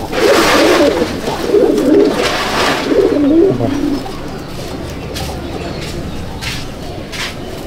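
Pigeons in a breeding loft of about 80 pairs of Madrasi (Chennai) birds give low, rolling coos, loud and close for the first few seconds, then fading to a softer background murmur with faint rustling.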